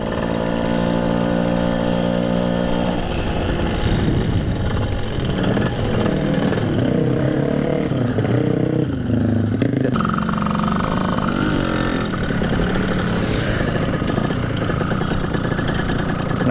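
A Yamaha 200 cc motorcycle engine runs steadily throughout, loud and close, with its pitch shifting as the throttle is revved and eased during tuning.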